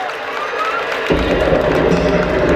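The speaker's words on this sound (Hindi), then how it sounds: "चलिए जरा जोरदार ताली बजाइए इनके लिए" An indoor school annual function audience breaks into loud applause and cheering partway through, after a quieter opening stretch, and the clapping continues strongly to the end.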